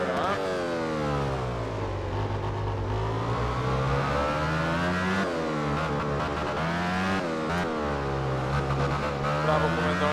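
Motorcycle engine in the video game MotoGP 13, revving loudly and continuously with rising and falling pitch through gear shifts during a race, close and dominant throughout.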